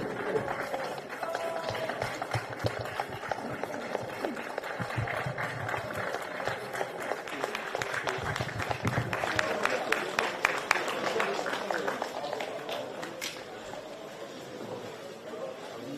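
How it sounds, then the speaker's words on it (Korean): An audience greets an arriving party leader at a farmers' meeting with steady, dense applause that rises to a crowded peak and then eases off, with voices murmuring in the room beneath it. "큰 박수 부탁드립니다."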